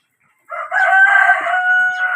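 A rooster crows once, loud and close, a single drawn-out call.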